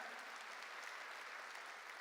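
A church congregation claps together during a service, a dense, even wash of applause that sounds distant and fairly faint and carries on without a break.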